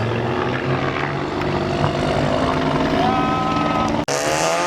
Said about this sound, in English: they got the helicopter on us